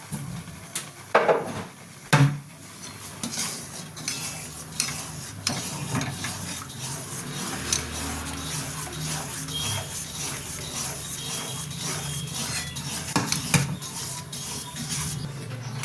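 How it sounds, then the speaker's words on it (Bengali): Chana dal mixture cooked with ghee in a pan gets stirred continuously, producing steady scraping and soft sizzling with occasional sharper knocks of the spoon against the pan, close and fairly even throughout. "এটাকে অনবরত নাড়তে থাকবেন যাতে ডালা না পাকিয়ে যায়।"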